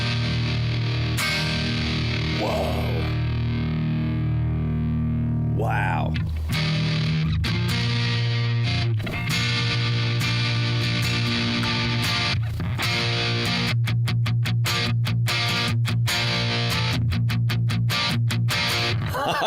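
An electric guitar plays through the M-Vave Tank-G's '65 Twin Reverb amp model, with sustained chords ringing out and then sharp, choppy strummed stabs, and a voice briefly exclaiming over it.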